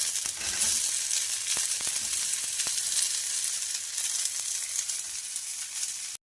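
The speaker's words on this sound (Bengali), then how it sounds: "বরবটিটা কিছুক্ষণ ভাজার পর" Steady, loud sizzling of yardlong beans frying with onion and chilli in a hot pan, with a few faint utensil clicks; no voices.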